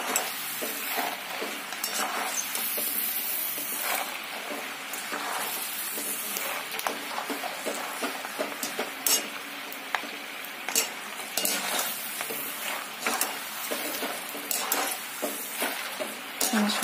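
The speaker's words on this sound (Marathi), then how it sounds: "थोडेसे भाजून देणार आहे आपण याला अजून." Crispy maize poha chiwada being dry-roasted in a pan, with a continuous rustling, crackling hiss and frequent scraping strokes of a spoon stirring the flakes, steady and close throughout.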